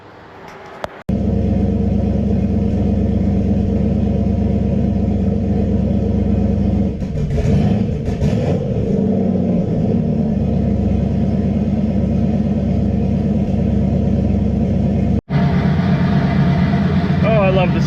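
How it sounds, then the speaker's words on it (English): Car engine idling with a loud, steady low rumble and deep harmonic drone, interrupted by a brief disturbance midway and a short dropout near the end. "I love the sound of this car."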